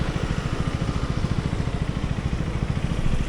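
KTM Duke 250 gen 3 single-cylinder motorcycle at speed, a close, loud rapid thumping engine pulse with fast regular firing beats and rough rasp over wind rush.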